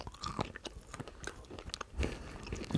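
A gummy buster candy being bitten and chewed close to the mic, with a series of quiet, crisp crunches and wet chewing sounds over about three seconds.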